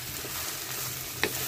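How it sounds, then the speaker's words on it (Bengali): Washed eggplant fries in hot oil seasoned with red chilli and a bay leaf, a steady close hiss of frying with one brief utensil clack near the end. "এখন ধুয়ে রাখা বেগুনটা আমি অ্যাড করে দিব।"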